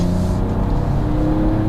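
A Ford Ranger Raptor with its 3.0-litre petrol engine accelerating, a steady, loud engine drone with a sustained rising hum heard close and alone.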